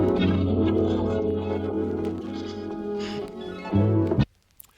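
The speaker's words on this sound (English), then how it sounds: "It's like the first time I remember ever sampling a harp" A chopped harp sample from a soul song, cleaned up for a hip-hop beat, plays a sustained, warm plucked phrase with a thicker swell near the end before cutting off abruptly, alone without talk.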